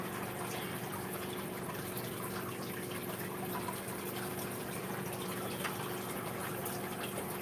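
Water pours continuously into a fish tank, a steady, even gushing and splashing that stays constant and fairly close throughout, with no talking.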